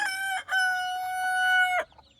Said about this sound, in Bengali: দেখো দেখো কত বড় হয়ে গেছে ছোট মুরগিগুলো